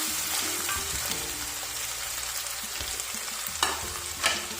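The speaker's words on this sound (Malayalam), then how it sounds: "നന്നായി ഒന്ന് ഇളക്കി കൊടുക്കാം" Sliced green chillies and onions for tamarind pickle are stirred in a hot pan, a soft steady sizzle of frying broken by scraping spatula strokes and a couple of louder clinks, with no voices.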